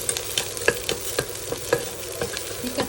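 Chillies sizzle steadily in a hot wok while a utensil scrapes and clacks against the metal at an irregular rhythm, close up.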